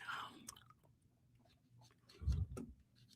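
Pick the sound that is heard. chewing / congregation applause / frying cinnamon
chewing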